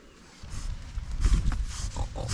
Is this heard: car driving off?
no